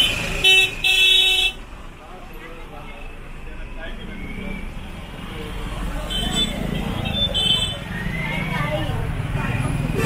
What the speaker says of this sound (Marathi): हा बघा आता ट्रॅफिक झालंय।